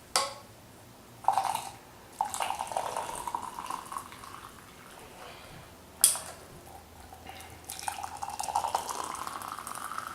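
Liquid poured from a pot into a cup while making tea at home, a soft continuous trickle in a few bursts with small clinks, fairly quiet and close.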